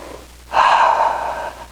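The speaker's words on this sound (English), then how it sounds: "Breathe in, breathe out." A single deep, audible breath during karate stretching, a close, airy exhale lasting about a second, preceded by a brief quiet inhale.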